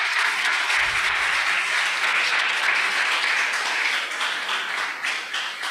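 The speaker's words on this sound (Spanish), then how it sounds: "Dale un fuerte aplauso al Señor." A church congregation breaks into loud, sustained applause after a sermon, a dense wash of many clapping hands that holds steady throughout and eases slightly toward the end.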